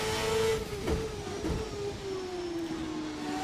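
Race car engine in a racing game bouncing off its rev limiter, a loud steady high drone held near one pitch with a couple of sharp stutters, no talking.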